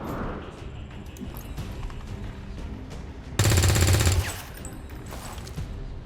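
A squad weapon firing in XCOM 2 Long War 2, one loud, rapid burst of shots lasting under a second that stands out sharply above quieter background game ambience.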